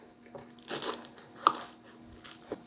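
A knife cuts through tall rice crispy squares, giving soft crinkly crunches and a couple of sharper cracks, fairly faint and close, with no talk.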